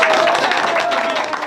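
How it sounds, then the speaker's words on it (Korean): Audience applause at a plaque-presentation ceremony for a National Assembly member in Korea: loud, dense clapping from a crowd, continuous and close, with a faint steady tone underneath. "박수!"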